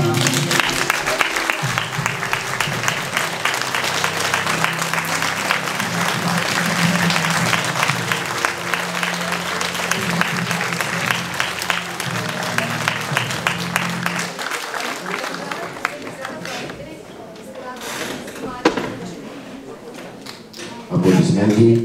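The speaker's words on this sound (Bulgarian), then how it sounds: "Аплодисменти." An audience at an anniversary award ceremony applauds at length, a steady full roll of clapping that slowly dies down after about fifteen seconds, leaving scattered claps and room noise with voices.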